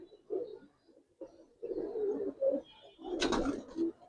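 A male khaki pigeon coos in soft, low, throaty phrases close by, several rolling coos in a row with brief pauses and a sharper flutter near the end.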